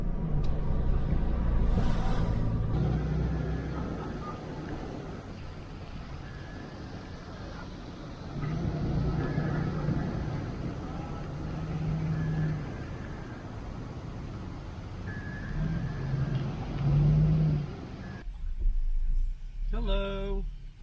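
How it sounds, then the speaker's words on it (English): A car climbs the summit road of Cadillac Mountain in Acadia National Park, giving a steady low engine and road rumble that swells and eases throughout, with a brief quieter shift near the end. "So we're gonna start driving up the summit."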